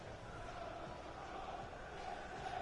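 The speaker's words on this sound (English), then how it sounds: "Just listen to that crowd, man." Stadium crowd in the football video game FIFA 19, a continuous dense roar of massed fans that holds steady throughout at moderate loudness.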